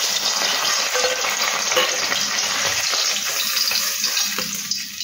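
Amudi, a small freshwater fish, fries in hot oil in a pan, giving a loud, steady, close sizzle with dense crackling that continues throughout.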